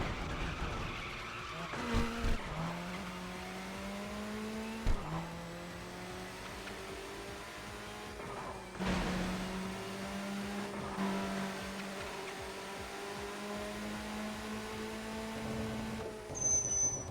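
Little Roadster race car in the TXR 2025 racing game, engine holding a steady high drone at speed with rising and falling pitch shifts and short tire squeals between gear changes.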